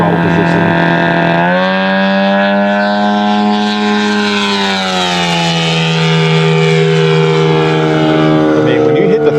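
A giant-scale RC F8F Bearcat model airplane engine runs steadily at a throttle setting, its loud harmonic drone holding pitch, dipping slightly midway, then rising again, with a person talking over it.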